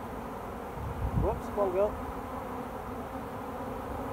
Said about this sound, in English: So I like to be careful I don't squash any bees.